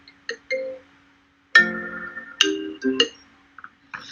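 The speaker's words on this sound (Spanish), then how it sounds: "es que me estaba sonando el teléfono" A mobile phone rings indoors during an interview: short bright electronic tones in separate bursts with silent gaps, a few clustered chime notes fairly close and clear, with no talk over them.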